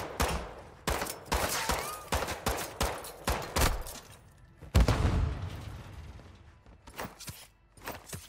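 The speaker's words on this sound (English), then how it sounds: "This right shield guy's still shooting me through the wall." Repeated bursts of automatic gunfire from a riot-shield enemy in Modern Warfare 2 DMZ, loud and close, firing in rapid volleys with short gaps, one heavy impact midway, then quieter scattered shots.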